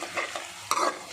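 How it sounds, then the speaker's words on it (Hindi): Cumin seeds fry in a pan with softened onions, giving a soft, steady sizzle with a couple of scraping stirs and one sharper clatter near the end, moderately close and with no talking. "अब हम इसके अंदर डालेंगे ज़ीरा। ज़ीरा डालने के बाद इसको थोड़ा सा पकाएंगे"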